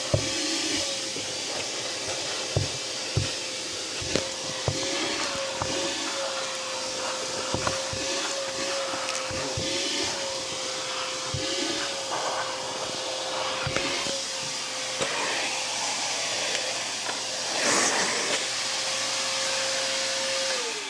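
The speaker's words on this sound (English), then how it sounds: "I'm going to switch over to the wet dry vacuum component and see how that performs." A Harbor Freight wet-dry vacuum cleaning a car runs steadily with a loud, constant whine and hiss, punctuated by occasional knocks and clicks throughout.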